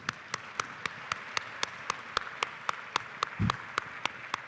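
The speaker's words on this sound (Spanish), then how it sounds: "les pido que los despidamos con un gran aplauso" An audience at a panel discussion gives steady applause in a fast, even rhythm of claps, moderately close, with no voices over it.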